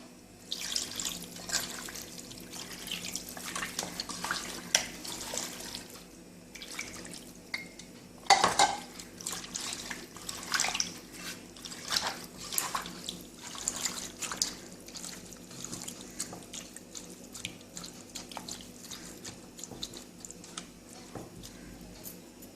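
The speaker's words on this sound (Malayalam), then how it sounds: "2-ാം പാല് ഒഴിക്കുക." Thin second-press coconut milk pours and splashes into a pan of chicken in a quiet, uneven trickle, with occasional clinks of cookware.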